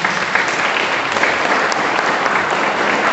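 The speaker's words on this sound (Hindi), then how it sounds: "ताली बजाएंगे" Guests at an Oraon Christian wedding ceremony clap together, a loud, continuous wash of applause that holds steady throughout without talk.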